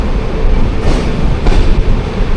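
The Jamnagar Tirunelveli Express at Sangameshwar station gives a loud, continuous low rumble with brief swells of hiss, heard up close with no voices.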